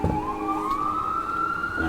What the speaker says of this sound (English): second batch of sirens going by